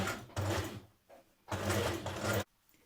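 A sewing machine stitches a short seam just inside the facing of a Simplicity 8602 top, running in two steady mechanical bursts with a brief pause between them, close and clear with no talking.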